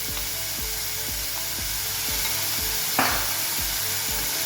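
Garlic paste, garam masala and salt frying in a pan for a Goan oyster bhaji, giving a steady close sizzle with regular scraping stirs, one sharper clack near the end, and no talk.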